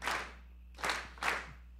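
Three sharp bursts of audience clapping land at an even, steady beat about half a second apart. The clapping is crisp and fairly faint, with quiet gaps between bursts.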